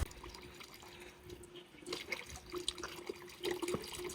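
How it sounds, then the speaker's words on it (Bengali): Heavy rain falling outdoors in Austria, a continuous close wash of water with scattered drips and splashes, steady throughout with nothing else over it. "আসলে এতগুলো বৃষ্টি নেমে গেছে সো আম ওয়েটিং বৃষ্টি একটু থামুক"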